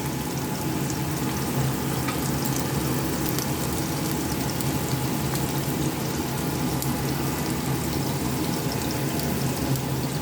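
Chopped green chillies and crushed garlic sizzle in hot oil in a pan, a constant crackling hiss heard close up and alone.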